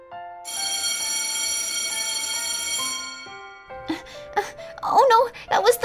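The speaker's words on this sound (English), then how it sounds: "Oh no, that was the final bell." School bell ringing in the Minecraft video game, a long bright sustained electronic ring for about three seconds, then a few short falling tones followed by a voice talking.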